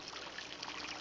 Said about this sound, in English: I hear the water.